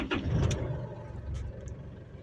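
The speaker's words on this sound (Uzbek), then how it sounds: "Endi avtomobilni запуск qilib ko'ramiz." An Isuzu D-Max pickup's engine starts up close by, a brief crank followed by a low, steady idle rumble.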